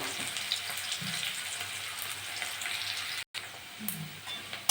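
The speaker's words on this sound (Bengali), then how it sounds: "পেঁয়াজটা একটু ভাজা ভাজা হয়ে গেছে" Sliced onions and cumin seeds fry in hot oil in a pan, giving a faint, continuous sizzle with a couple of soft stirring scrapes and a brief dropout partway through.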